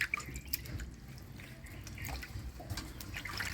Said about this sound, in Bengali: মাংসটা ধুয়ে নেই।